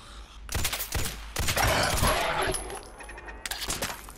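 Distant gunfire in the Fallout 4 video game, a series of rapid, sustained bursts of shots at moderate loudness that roll on across several seconds with brief gaps.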